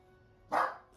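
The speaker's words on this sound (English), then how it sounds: "he started barking. He hardly ever barks." A single short, sharp dog bark close by, rising out of a quiet room and fading quickly.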